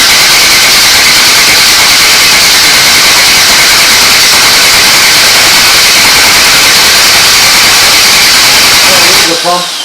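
A Chevrolet Camaro engine runs steadily at its first start, a loud, dense roar with hiss that holds for about nine seconds before cutting off abruptly near the end.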